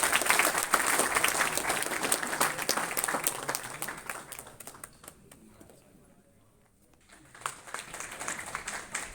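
Audience at a university seminar welcome ceremony applauds, a loud patter of many hands that fades to near silence midway and then swells again, with a voice talking briefly over it.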